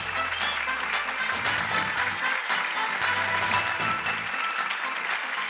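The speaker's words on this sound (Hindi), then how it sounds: "तो जोरदार तालियों के साथ स्वागत कीजिए वर्सेटाइल सुमित का।" Audience applause welcoming a contestant on a televised singing competition stage, a steady dense clapping wash that holds loud and even for several seconds with music-like low tones underneath.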